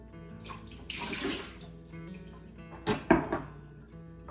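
Water pours over a kitchen sink while onions are being pickled under a rock weight, a close, steady splashing flow with a few thumps and knocks near the end.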